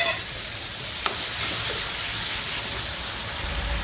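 Chopped tomatoes frying with salted onions in a pan, a steady close sizzle and crackle that holds evenly throughout, with one small clink of a utensil near the start.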